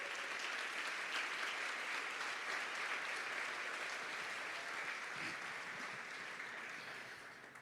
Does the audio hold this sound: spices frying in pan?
no